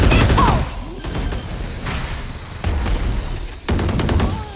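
Bursts of gunfire in the Valorant video game, several loud rapid volleys separated by short gaps with game effects in between, close and prominent.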